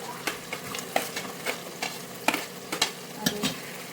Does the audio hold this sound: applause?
no